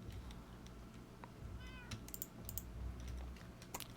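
A pet cat gives a short, quiet meow amid soft, continuous computer keyboard typing and clicks, heard close but faint, with no talk.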